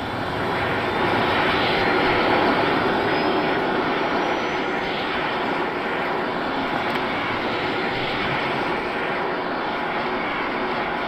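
An aircraft engine running steadily after start-up, a loud, even drone that holds for the whole stretch with no voices over it.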